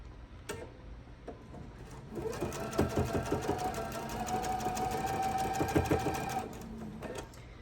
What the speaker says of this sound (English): And now I'm going to sew down to that clip.